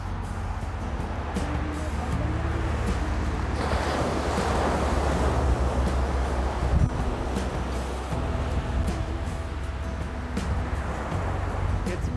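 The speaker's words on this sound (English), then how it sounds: "while it's a little windy here, even in the afternoon" Steady wind buffets the microphone at Sugar Beach in Kihei, Maui on an afternoon, with surf rushing underneath in a continuous broad roar and a passing vehicle hum in the background.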